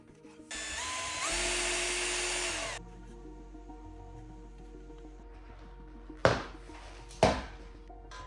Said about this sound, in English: We'll drill 3 holes to install cable glands.